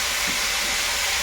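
Flat beans fry in a pan with a loud, constant broadband hiss and sizzle that carries on steadily with no talk.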